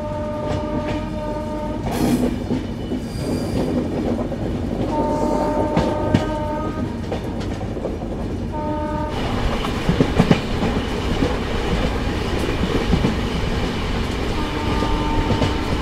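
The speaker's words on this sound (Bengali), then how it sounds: "ট্রেন কিন্তু মোটামুটি ঠিকঠাকই চলছে" The Darjeeling Mail from Kolkata toward Siliguri rolls along with a loud, steady rumble and clatter of wheels on rails, while several sustained horn blasts sound over it.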